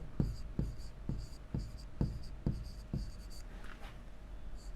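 Chalk or marker taps and strokes across a classroom board during a Class 8 science lesson, in a steady rhythm of short, crisp marks. A faint hum sits underneath, with no talking.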